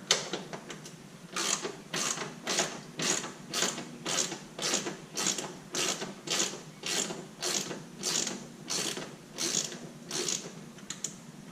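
Small screws being backed out of a Toyota Tacoma grille during a replacement grille install, giving a steady run of quick, evenly spaced ratcheting clicks, close and fairly loud, with no talking.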